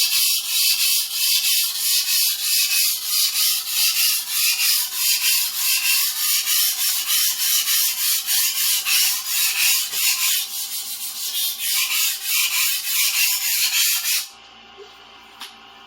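A vintage 14-inch Ontario chef knife tip being sharpened on a stone, with loud, close, continuous rhythmic scraping strokes in a fast back-and-forth rhythm that slows briefly and then stops abruptly near the end.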